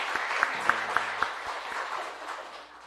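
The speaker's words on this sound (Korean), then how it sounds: "우리 한번 다 같이 우리 박수로 우리 격려해드리도록 하겠습니다." A church congregation claps during a Sunday worship service, a handful of sharp claps standing out at first before the applause thins and fades, with a faint low hum underneath.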